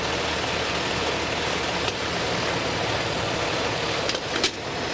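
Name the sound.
car reversing slowly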